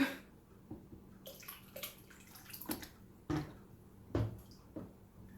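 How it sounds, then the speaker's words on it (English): Liquid fabric dye, bluey-green, is poured from a bucket, giving quiet sloshing and splashing in irregular bursts with soft knocks and drips between them, close and fairly faint. "just sitting here pouring fabric dye from a bucket into this"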